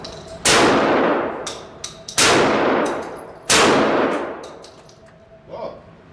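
A compact home-defense shotgun fires three loud, sharp blasts about a second and a half apart, each ringing out and decaying slowly, followed by a faint metallic clack of the action.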